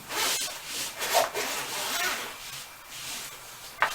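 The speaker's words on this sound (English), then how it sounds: "Let's check out the zipper quality." The zipper on an Einstar 3D scanner carrying case is drawn open in a steady, close rasping run, ending with a small click of the pull.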